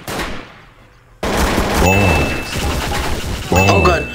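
Loud bursts of gunfire in the multiplayer game Trouble in Terrorist Town, rapid shots in quick succession after a brief quiet stretch, with players talking over the shooting.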